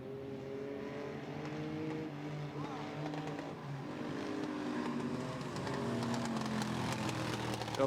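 Race cars lapping at Robertson Prestige International Speedway, with engines droning and revving continuously as several cars pass at a distance, a steady layered roar that swells slightly toward the end.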